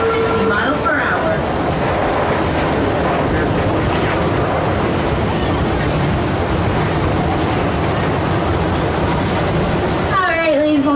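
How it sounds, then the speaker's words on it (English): A 13-story interlocking double-looping roller coaster at Busch Gardens rumbles and clatters loudly and continuously along its track, a broad roaring rush that stays close and steady, while a voice narrates over it. "This interlocking, double-looping coaster stretches a monstrous 13 stories tall"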